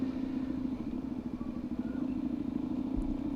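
A Suzuki DRZ 400 motorcycle fitted with an aftermarket exhaust runs with a steady, throbbing low drone and a faint rattly texture, heard up close and continuously for a few seconds while riding.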